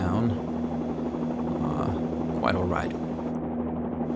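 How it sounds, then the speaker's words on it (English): A simulated Bell 47-2G helicopter engine and rotor in X-Plane with the Flyinside plugin hum steadily and loudly as the throttle is eased back to settle the craft. Someone talks over the constant drone. "slowly reducing the throttle, so leading with the throttle, as you can hear, and that makes the helicopter settle down"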